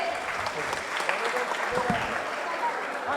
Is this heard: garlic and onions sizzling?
no